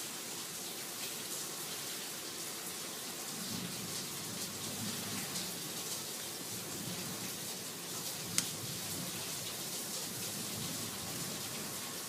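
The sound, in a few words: rain and thunder of a storm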